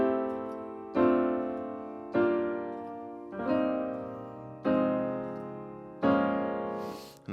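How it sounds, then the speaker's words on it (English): Minor seventh chords descending by fifths ring out one after another, roughly six sustained chords struck at even intervals, each decaying before the next, with no voices. "That might sound like this, if all minor 7ths resolving down by 5th."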